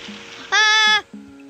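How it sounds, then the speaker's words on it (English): A sheep in the Minecraft video game gives a single short, bright bleat, loud and close, over faint low game background sounds. "Oh, it's a goat. Oh, and a sheep."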